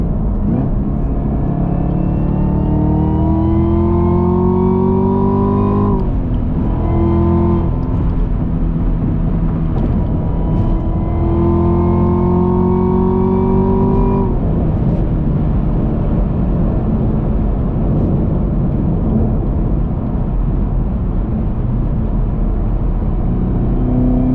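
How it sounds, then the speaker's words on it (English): A car with cold Nitto tires spins its wheels, the engine revving up in two long rising surges with a lull between, then settling into a loud, steady roar of motor and tire noise, close and continuous. "Nothing but wheel spin, man."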